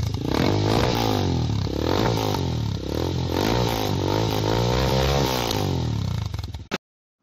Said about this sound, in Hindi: ये जो एग्जॉस्ट है 5500 का इंस्टॉल्ड हुआ है और इसका साउंड आप सुन सकते हैं।